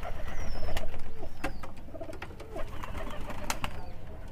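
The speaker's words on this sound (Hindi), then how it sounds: "देखिए काफ़ी कबूतर हमारे इकट्ठे इस टाइम हो चुके हैं।" Pigeons coo repeatedly in a loft, with soft overlapping throaty calls, occasional wing flaps and sharp clicks close by.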